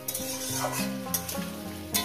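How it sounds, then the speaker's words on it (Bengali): Vegetables frying with salt in a pan for a Bengali shukto hiss steadily under a background tone, broken by a few scraping stirs and no talking. "প্রত্যেকটা সবজি আমি কিন্তু লবণ দিয়ে ভাজছি"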